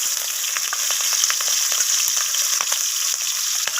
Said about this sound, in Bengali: তো আমি এখানে কুচো চিংড়িটাকে একটু ভাজা ভাজা করে নেব।